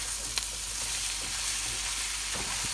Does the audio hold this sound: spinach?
yes